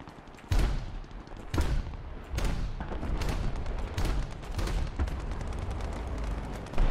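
Aircraft gunfire in War Thunder strikes a half-track, heard as heavy repeated booming bursts about once a second over a dense, rumbling battle roar.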